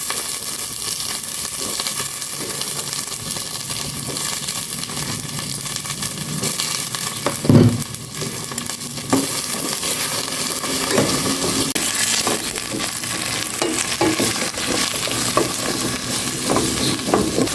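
String beans frying with leftover rice in a pan, a steady loud sizzle with scraping stirs throughout and a sharper clatter near the middle; no talking.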